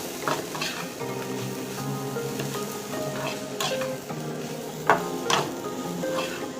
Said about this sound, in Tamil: இதை கிளறி இப்போ இதில் இந்த தேங்காய் துருவலை போட்டுருவோம்.